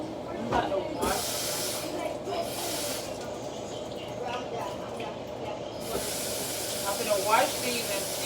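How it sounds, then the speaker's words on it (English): Running water hisses steadily as raw shrimp are rinsed under a kitchen tap, a continuous spray with occasional splashes and a voice speaking over it. "I'm going to take my shrimp and I'm going to wash them"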